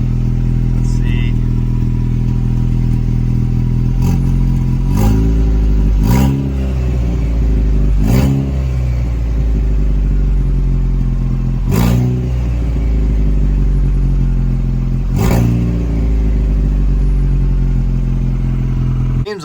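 A Ford Ranger's 2.0 EcoBoost engine runs steadily close by with a loud, droning idle and several short blips of revving spread through, with some clatter and no downpipe fitted.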